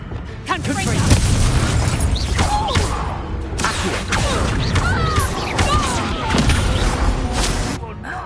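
In the Hogwarts Legacy video game, the Confringo explosive spell blasts among continuous, dense battle noise. Booms and crashes layer over each other through the whole stretch, loud and busy with no pauses.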